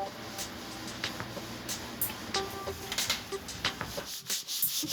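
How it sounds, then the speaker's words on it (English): Drywall compound is sanded by hand on a home wall, an uneven scratchy rubbing in short repeated strokes, close and fairly loud with no talk. "But that's why I'm sanding and I'm sanding and I'm sanding"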